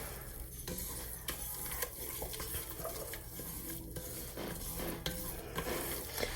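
A spoon scrapes and stirs a roux of flour and oil cooking in a pot, with irregular metallic scrapes and knocks over a soft, continuous sizzle, close and fairly quiet, no talking.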